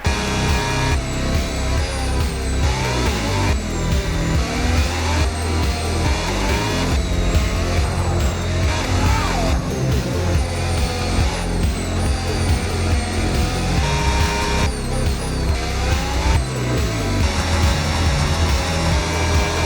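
A racing car engine in a video game screams through a qualifying lap at the Baku street circuit, loud and continuous, rising and falling as it shifts through gears, with brief tire squeal.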